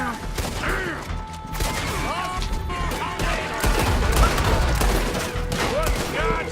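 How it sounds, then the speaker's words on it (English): Sustained gunfire in a Red Dead Redemption 2 shootout at a wagon and house, with rapid shots and mechanical clatter under shouting voices and music. "Just keep shooting!"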